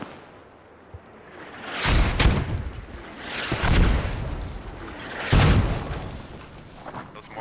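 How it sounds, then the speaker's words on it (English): Mortar shells exploding in a military video game, three heavy booming impacts about a second and a half apart, each a loud broad blast with a rumbling tail over a low background. "Those mortars are dropping on me"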